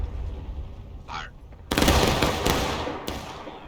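A battle reenactment line fires a single loud volley. The ragged burst of overlapping gunshots breaks out suddenly after a short stretch of outdoor ambience and rolls on briefly. A later lone crack follows close by.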